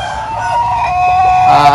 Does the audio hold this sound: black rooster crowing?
yes